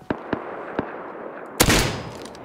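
Sniper rifle fire in the Rust video game: three sharp, fairly close cracks spaced through the first second. Then comes one much louder blast whose echoing tail rolls away into the distance.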